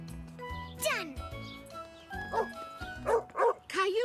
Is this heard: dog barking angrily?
yes